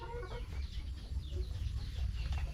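Hens clucking steadily at close range in a backyard egg-laying coop, with overlapping calls and low rustling throughout, no voices.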